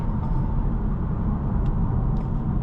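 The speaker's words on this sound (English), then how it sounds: "You hear that turbo." Engine of a 2024 Volkswagen Golf R with its turbocharged motor, a steady low droning hum heard from inside the car while driving, with faint higher whooshes over the rumble and no voices.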